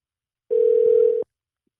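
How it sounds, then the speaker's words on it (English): A telephone call rings out with a single clear ringback tone, a steady pure beep lasting under a second, alone in otherwise silent surroundings. "See if Sarah answers her phone."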